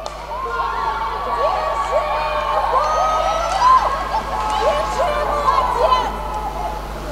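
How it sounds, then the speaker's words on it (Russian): Football supporters from Chelny cheer and chant in a stadium at a Chelny–Samara match, a steady roar of crowd voices with whoops and shouts rising and falling, heard somewhat distant beneath a commentator's voice. "Активизировались челнинские болельщики"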